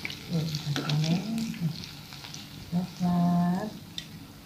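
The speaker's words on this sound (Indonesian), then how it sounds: "Kita goreng." Marinated bacem tempe and tofu frying in hot oil in a home kitchen, a steady close sizzle and crackle with occasional stirring, while a person talks over it.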